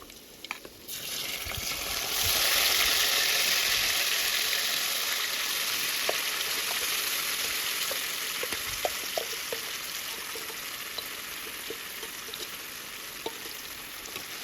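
Chicken goes into a pan of green curry and sets off a sudden surge of loud, hissing frying that then settles into a steady sizzle, with scattered small pops and spatters.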